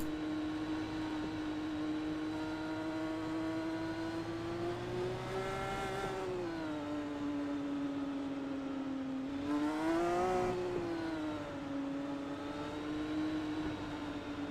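An IndyCar engine heard onboard in the iRacing sim at Gateway hums at a steady high pitch behind the pace car, its tone rising and falling in two revving swells around mid-clip, with no voices.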